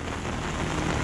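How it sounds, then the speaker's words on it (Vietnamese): Rain falling in a mountain forest, a dense, even hiss of drops with no break or rhythm, faint and alone. "Mãi trời mới mưa các bạn ạ"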